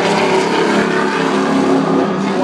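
Near and loud, a NASCAR race car's engine roars continuously as the car runs a lap on the track.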